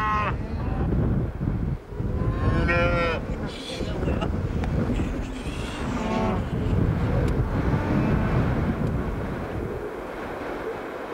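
Cattle on a farm in northern Patagonia low and moo several times, outdoors amid gusting wind noise, with people talking over and between the calls.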